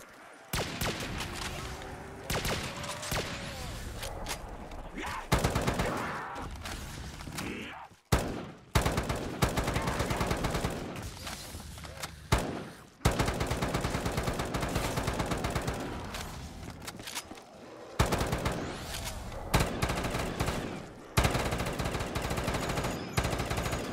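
The Death Machine minigun in Black Ops 3 Zombies fires in long, loud, sustained bursts of rapid gunfire, broken by a few short pauses, with a voice talking over parts of it.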